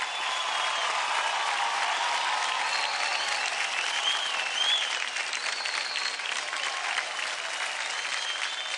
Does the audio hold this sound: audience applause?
yes